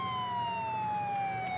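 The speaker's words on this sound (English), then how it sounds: "It looks like we're following the other ambulance." An ambulance siren in the video game GTA 5 wails steadily and loudly throughout, its tone gliding slowly downward over a low engine rumble, with no talk.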